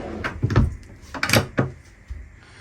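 Storage drawers aboard a 2018 Leopard 45 catamaran, starboard midships, slide open and shut in several close, sharp wooden knocks and thumps, quick and uneven, with no speech over them.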